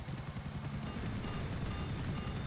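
Helicopter in the video game GTA IV, a steady, loud rotor chop with rhythmic blade thumps and high turbine whine, continuous and close throughout.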